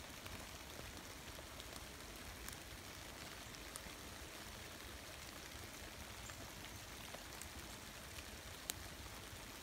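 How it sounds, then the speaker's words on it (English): Steady rain hiss falls through the woods, a dense even patter with occasional louder drips, constant throughout and with no voices. "As soon as this rain lets up, I'm coming back up there."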